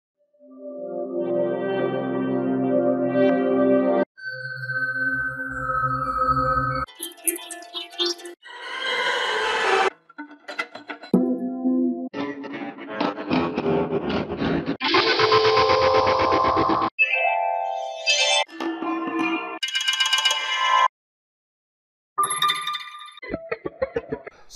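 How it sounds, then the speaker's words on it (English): Light and dark atmosphere sound design effects from the Precisionsound Sonic Laboratory library: a run of shifting synthetic tones, chimes and textured drones changing every few seconds, loud and close, with a brief silent gap near the end. "So kind of like light atmospheres, dark atmospheres, stuff like that."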